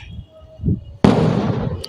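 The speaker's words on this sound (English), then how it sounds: "I am sorry if you're listening to too many fireworks today" A sudden loud firework bang outside followed by crackling and rumbling, preceded by a brief low murmur of background sound.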